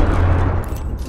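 A grenade detonates in the Apex Legends shooter game, a loud, heavy boom with a dense low rumble that fills the brief moment and tails off slightly toward the end.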